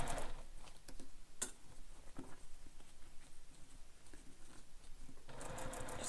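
A sewing machine stitching a handheld bag runs in short, quiet bursts of rapid ticking patter, pausing between runs, with a louder burst at the very end.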